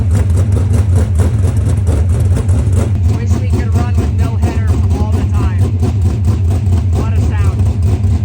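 A race car engine idles loud and close just after being started, a steady low rumble throughout with slight rises in revs.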